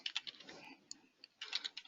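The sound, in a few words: typing on a computer keyboard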